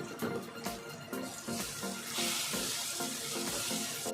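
Chilli powder and turmeric are stirred into tomatoes frying for a chicken curry: a steady crackling sizzle with repeated scraping stirs of a spoon through the pan, close and fairly quiet, no voices.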